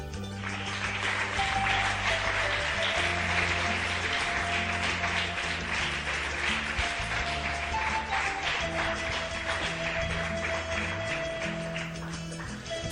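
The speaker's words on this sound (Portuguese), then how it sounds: "Quem vai continuar, aplauda o Senhor." Congregation clapping in a church service, a steady dense applause with sustained organ or keyboard chords and bass notes playing underneath throughout.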